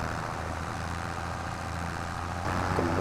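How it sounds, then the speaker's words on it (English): A 100-horsepower John Deere tractor struggles up a slope in low gear in Farming Simulator 2025. The steady engine rumble holds even, then grows slightly louder and rougher near the end. "the little John Deere is struggling once again, but the guy's holding it in a nice low gear for us"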